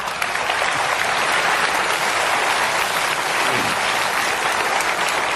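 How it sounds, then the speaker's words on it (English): A room full of people claps steadily for participants at a talk on setting goals, a dense, even wash of applause that holds for several seconds with no speech over it. "Give them a clap. They've done well"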